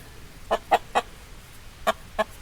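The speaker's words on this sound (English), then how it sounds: "he is a good rooster" Henry, a backyard rooster kept with a flock of hens, gives five short, close clucks in an uneven rhythm, with quiet pauses between them.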